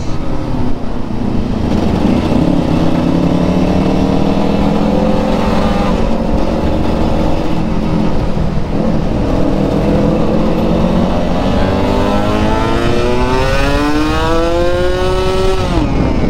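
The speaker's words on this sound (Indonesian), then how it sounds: "Jadi di RPM 6000 itu maunya dia ngebuka langsung, kalau digantung bunyinya ngong gitu" A tuned Kawasaki Ninja RR two-stroke motorcycle engine revving close by, pitch climbing and falling through several throttle blips before a long rising rev, loud and continuous with no voices.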